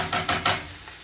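Food frying and cooking down in an oiled skillet, a soft steady sizzle with a few brief scraping stirs near the start.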